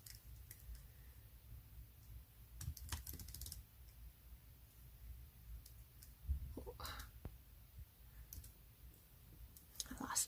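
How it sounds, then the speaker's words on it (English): Soft, close keyboard typing into electronic medical records, irregular clusters of key clicks with pauses, quiet and intimate in an acne exam setting. "Let me type a little bit more here."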